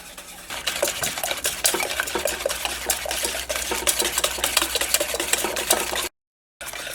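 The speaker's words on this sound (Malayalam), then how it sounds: "ഇപ്പോൾ മുട്ടയും പഞ്ചസാരയും കൂടിയിട്ട് നന്നായിട്ട് മിക്സ് ചെയ്തിട്ടുണ്ട്" Eggs and sugar being whisked together in a bowl for a semolina and egg snack, with a steady stream of fast rhythmic clinks and scrapes of a whisk against the bowl, close and continuous, briefly cut out near the end.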